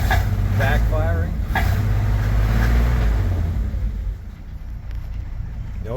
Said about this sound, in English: As soon as you give it any gas, it starts backfiring.